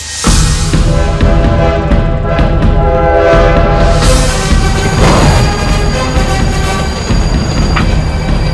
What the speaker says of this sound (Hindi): ट्रेन आ गई सर जी। ट्रेन।